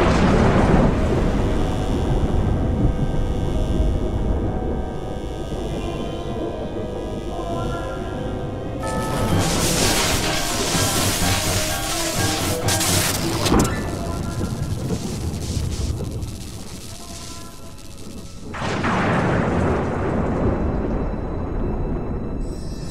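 A heavy nighttime thunderstorm with steady rain, long rolling thunder and two loud cracking thunderclaps that rumble on, all heard without any voices.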